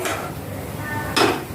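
Spices with curry leaves, onion and chilli hit hot oil in a home kitchen, a brief sizzling burst over the clatter of a pan and utensils.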